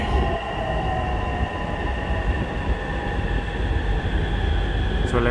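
Bangkok MRT Purple Line train standing at a station, a steady loud rumble of motors and ventilation with high whining tones held throughout and a brief squeal near the end.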